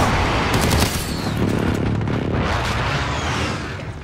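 Precision airstrike explosions and rapid gunfire in a Call of Duty: Modern Warfare hardpoint match, a dense, loud, continuous barrage of bursts and booms lasting the whole stretch.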